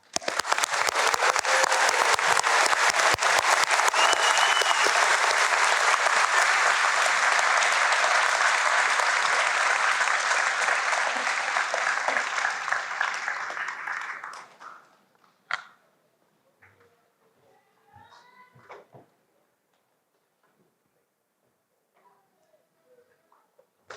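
A commencement audience at Skagit Valley College's Mount Vernon campus gives sustained applause for about fifteen seconds, then it fades into near silence with a few faint stray sounds.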